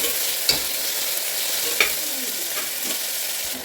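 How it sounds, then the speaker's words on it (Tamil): Tomatoes and curry leaves frying with ginger and garlic in a pan, a steady loud sizzle with occasional stirring scrapes and clinks, close up, with no talking. "இப்போ நம்ம தக்காளியும் கருவேப்பிலையும் சேர்த்துக்குவோம். அப்படியே நல்லா ஸ்நாக்ஸாக நல்லா வதக்கிக்கலாம்."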